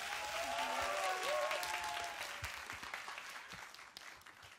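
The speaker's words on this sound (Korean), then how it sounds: "박수를 청해 드릴게요." Audience applause at a live Tuesday concert broadcast on MBC radio: steady, dense clapping from a crowd that slowly thins and fades, with a faint voice briefly heard over it.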